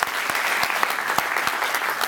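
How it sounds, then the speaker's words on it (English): A conference audience gives the event organizers a round of applause, dense sustained clapping, loud and steady with a few sharper individual claps standing out. "can we just straight off the top give Drew and Hillary and everybody that's helped them a huge round of applause?"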